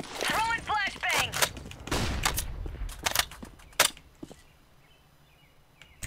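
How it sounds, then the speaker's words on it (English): A flashbang grenade thrown in the video game CS:GO, with sharp gunfire-like bangs and thuds scattered over several seconds amid game noise, and voices talking over the opening. "Throwing flashbang."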